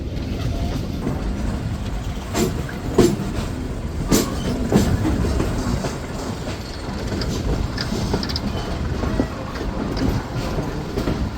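An IR Mail local train runs from Rajshahi toward Amnura junction, heard from inside as a continuous loud rumble with rhythmic clickety-clack of wheels over rail joints and occasional sharper rattles.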